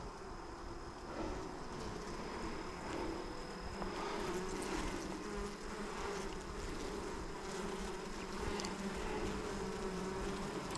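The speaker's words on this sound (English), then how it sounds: "Lots of young bees too." Honey bees buzz in a continuous, dense drone during an open hive inspection, steady and close throughout with no talk.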